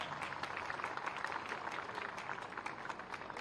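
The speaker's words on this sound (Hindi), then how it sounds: "जोरदार तालियां बजाइए हम लोग।" Audience at a temple building inauguration and consecration ceremony claps in a steady, fairly faint patter, heard alone without talk.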